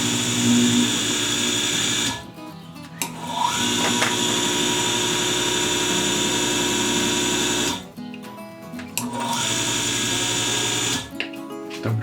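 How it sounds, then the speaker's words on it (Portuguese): A fast motor for an anti-crush gate barrier spins with a steady, loud, high-pitched whine, broken by a few short dips where the motor briefly pauses or slows. "Esse é um motor rápido."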